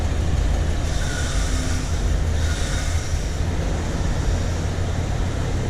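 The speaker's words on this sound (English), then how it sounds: "It does have an exhaust leak on the side." A steady, rumbling 1995 Ford F150 truck engine idles loud and close, with a rough, raspy edge to its exhaust note from an exhaust leak on the side, and no pauses.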